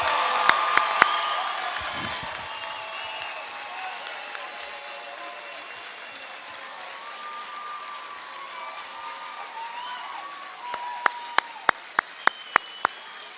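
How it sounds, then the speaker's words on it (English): A graduation ceremony audience applauds the class of 2004, a steady, moderately distant round of clapping with faint voices, ending in a few louder, separate nearby claps. "Let's give them another round of applause."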